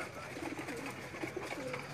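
Pigeons returning to a rooftop in Jamal Pur Sayyidan give soft, low cooing calls, a few faint coos scattered over a quiet background hum.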